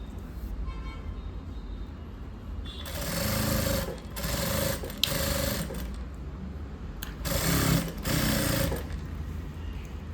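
A sewing machine stitches a blouse lining in several bursts of rapid, buzzing needle clatter, each running a second or two with short pauses between, close and moderately loud over a low background hum.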